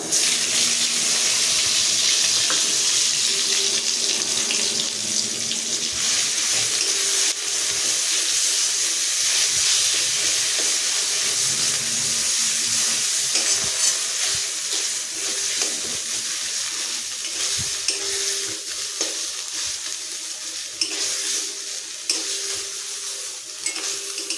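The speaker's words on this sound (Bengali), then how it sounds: "কাঁচা লঙ্কা দিয়ে একসঙ্গে পেস্ট করা আছে, এটা এবার ঢেলে দেবো" Green chili spice paste hits hot oil in a pan and sizzles steadily throughout, a loud continuous frying hiss with occasional stirring and utensil scrapes, no talking.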